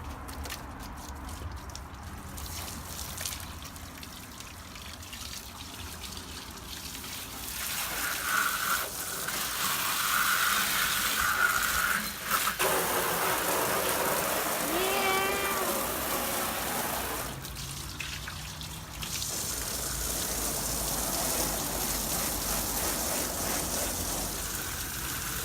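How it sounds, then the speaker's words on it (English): Water sprayed from a hose onto a dirty car engine under an open hood, a steady hissing rush that swells louder partway through and keeps going without pause. "come over here and spray down the engine. Look how dirty it is in there."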